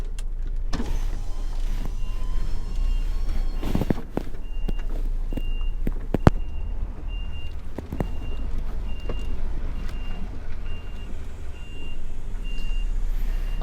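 A lorry reverses slowly between two trailers, its steady reversing beeper repeating at an even pace over a low, rumbling idling engine, with occasional clunks and faint air-brake hisses.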